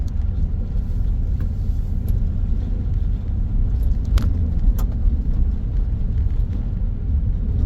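A car drives along a dirt road near Okanogan, Washington, its steady low engine and tire rumble running continuously, with a couple of brief rattles or ticks partway through.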